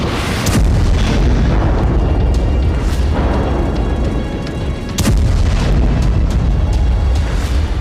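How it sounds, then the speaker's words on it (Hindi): News footage of Hamas positions in Gaza being blown up: a continuous, loud rumble of blasts with sharp booms near the start and midway, like distant explosions and artillery rolling on without pause. No one speaks. "जहां इलाके खाली हो रहे हैं वहां हमास के ठिकानों को विस्फोट से उड़ाया जा रहा है।"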